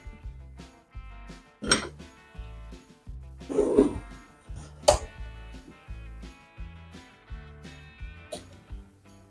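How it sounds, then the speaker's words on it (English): A spoon scoops and scrapes excess liquid out of chicken pot pie filling, giving a few separate clinks and wet scrapes against the dish. Soft background music plays underneath. "I'm actually going to spoon this out because I think I got too much liquid"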